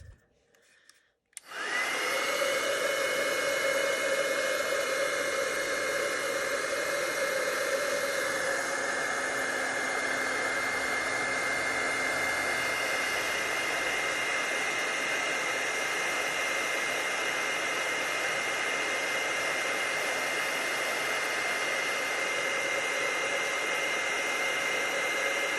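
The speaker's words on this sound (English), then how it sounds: "All right, so let's grab the heat tool." An embossing heat tool blows a steady, loud whirring hiss while melting embossing powder on a Christmas card, starting abruptly after a brief quiet moment and running continuously.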